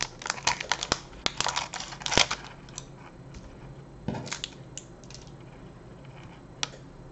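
Cake bar's plastic wrapper being torn open, a run of sharp close crinkles and snaps that gets quieter and sparser toward the end.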